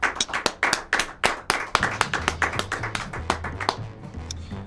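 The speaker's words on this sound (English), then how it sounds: "Let's clap for him." A small audience claps at a live show, with sharp, distinct hand claps in a loose rhythm, close and fairly loud, with a low hum or music underneath.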